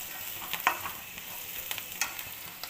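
Turmeric goes into oil frying in a pan for a drumstick-leaf dish, a close, steady sizzle punctuated by quick scraping stirs and a few light clinks.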